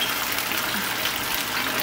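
Water poured into an oyster sauce mixture while cooking, a steady close gushing splash lasting the whole moment.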